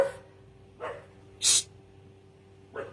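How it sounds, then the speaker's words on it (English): Dogs indoors let out a few short, sharp barks and yips, spaced apart over a few seconds against a quiet room hum. "I have 5 dogs. They may speak with us too."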